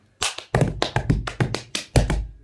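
Cup-song rhythm played by hand, with quick claps alternating with flat smacks against a table, eight or nine crisp close hits in a fast, even pattern with no talking.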